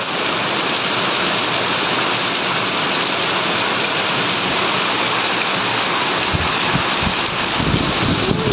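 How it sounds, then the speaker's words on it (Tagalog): Heavy downpour with strong wind, a dense, steady roar of rain drumming on surfaces that stays loud and unbroken throughout, with gusts blending into the constant wash of water. "Sobrang lakas ng ulan at hangin."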